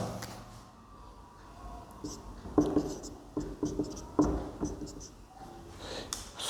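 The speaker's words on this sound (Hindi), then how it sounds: "देखिए दोबारा से वापस मैं रिएक्शन लिख रहा हूं" A chemical reaction being written out by hand during a chemistry lecture, heard as scattered scratchy strokes and taps that grow busier partway through, with no talking.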